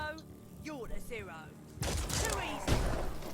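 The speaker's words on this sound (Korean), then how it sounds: "제가 지금 쓰고 있는 게 탱크가 쓰는 총이거든요" A tank's heavy gun fires in the video game Mutant Year Zero: Road to Eden, a dense burst of loud blasts and thuds that follows a stretch of voiced, game-like chatter.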